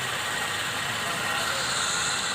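Suzuki Wagon R petrol engine idling smoothly after a cylinder 2 injector misfire fault, a steady close, even hum with broadband hiss throughout and no audible stumbles.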